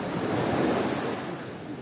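Large ocean waves surge and wash steadily during a family beach outing in Bicol, a broad continuous roar of surf mixed with wind buffeting the microphone, close and unbroken with no clear speech.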